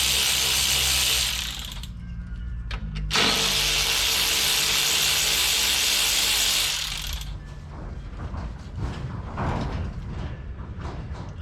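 A ratchet backs out transmission pan bolts on a 2003 Dodge Ram 3500 5.9 diesel with an automatic transmission: loud, steady clicking that breaks off briefly, resumes, then gives way to quieter mechanical rustling near the end.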